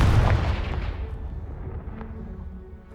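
An explosive Confringo spell blast in Hogwarts Legacy bursts with a heavy low boom that rolls away into a fading rumble and scattered debris, with no voices over it.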